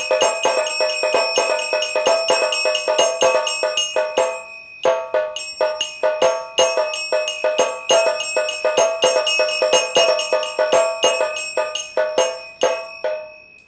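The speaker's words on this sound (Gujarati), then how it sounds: "છ ઇંચનું નગારું છે બે સ્ટીક આવી જાય સરસ મજાની બેલ છે બ્રાસના જે પંચ ધાતુથી આખા બનેલા છે પછી ચાલર છે અને ઇલેક્ટ્રિક પાવરથી ચાલે છે" An electric aarti machine with a six-inch drum, two sticks and a brass bell rings out a fast, continuous run of metallic bell strikes and taps, loud and close, with one brief pause partway through.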